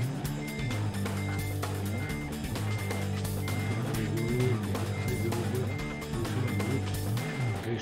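Reversing beeps from a truck in Euro Truck Simulator 2 repeat in a steady rhythm over a continuous low engine drone, close and constant, with no voices.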